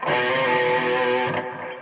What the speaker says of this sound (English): you just do this hammer pull 2 to 3 and back